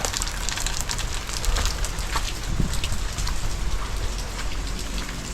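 Steady rain falls outdoors, a dense continuous hiss with scattered louder drops pattering close by on a surface.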